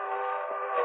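A train whistle sounding near a field by railway tracks, one sustained, steady blast with layered harmonic tones that holds for nearly a second at a fairly loud, even level.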